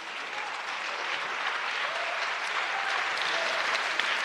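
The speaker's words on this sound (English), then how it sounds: "I believe that's our first applause of the panel" An audience at a conference panel breaks into applause, a steady, moderately faint wash of clapping that holds evenly throughout with no talk over it.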